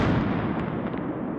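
A rifle shot fired at a boar on a night hog hunt with Winchester and Pulsar thermal optics is heard as a loud blast whose rumbling echo rolls on and slowly fades.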